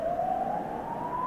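Police sirens sound in a music video set in an urban Korean city, one steady wailing tone that rises slowly and holds loud and close for a moment, with no talking over it.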